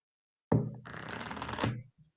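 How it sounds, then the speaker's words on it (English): Deck of playing cards shuffled once up close, a sudden thump followed by about a second of dense fluttering riffle that ends in a soft tap, no voices. "Now it's gonna go in, and we're gonna square this all up, and I'm gonna shuffle it."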